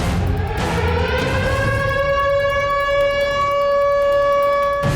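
A steady, loud air raid siren wails continuously in Ukraine, holding a single sustained tone throughout.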